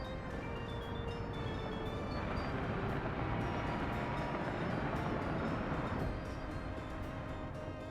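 A train in the Soviet-era city-building game Workers & Resources: Soviet Republic rumbles steadily along the rails, a faint, continuous rolling drone with no talk over it.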